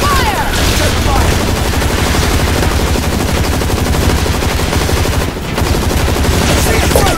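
Sustained rapid automatic gunfire from the online shooter Blackfire, a PVE survival match on the Pyramid map, loud and continuous with a brief dip near the end, and no voices.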